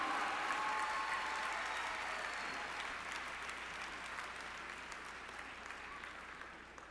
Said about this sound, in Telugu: మీ చప్పట్లతోనే.